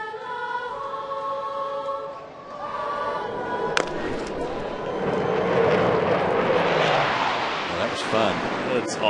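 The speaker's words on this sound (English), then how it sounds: "We used the jet sound to cover up the exclamation of Kelly fouling that ball off his foot." A jet aircraft roars low over a baseball stadium at the end of the national anthem at a Washington at Atlanta game in October 2009, a loud rushing swell rising over crowd noise, with announcers talking throughout.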